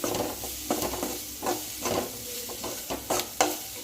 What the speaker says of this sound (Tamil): சேர்த்துட்டு நல்லா கிண்டி விடுங்க. மசாலா நல்லா மிக்ஸ் ஆகிற அளவுக்கு கிண்டி விடுங்க.